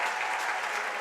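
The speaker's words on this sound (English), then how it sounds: "The crowd's on their feet." A basketball crowd in a college gymnasium cheers and applauds at the end of a hard-fought NESCAC quarterfinal, a dense, steady roar of clapping and voices that fills the space without a break.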